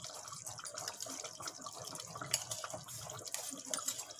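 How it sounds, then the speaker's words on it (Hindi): Cream poured into a pan of chicken angara, a soft wet trickling and dripping liquid sound that runs steadily, fairly quiet and close, with a few brighter splashes partway through. "थोड़ी क्रीम डाल देती हूँ इसमें"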